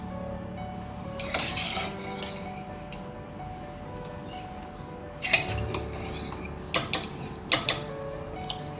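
Cooked beef tumbling into a stew pot with metallic clinks and scrapes of a utensil against the pot, a few sharp knocks near the end, close and moderately loud.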